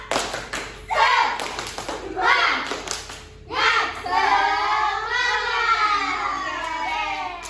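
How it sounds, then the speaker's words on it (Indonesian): A school class does a rhythmic spirit clap, bursts of many hands clapping in a patterned beat, mixed with children's voices and a teacher talking close by in a classroom. "Oke, tepuk semangat."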